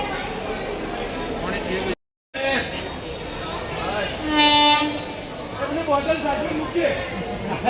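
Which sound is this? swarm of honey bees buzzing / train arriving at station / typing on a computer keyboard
train arriving at station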